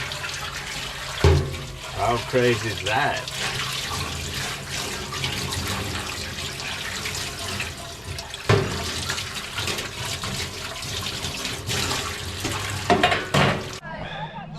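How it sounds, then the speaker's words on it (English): Water runs from a tap into a sink at a campsite near Edale, a steady hiss and splash with occasional clanks of a pan, while someone speaks briefly over it. "There we go, running water."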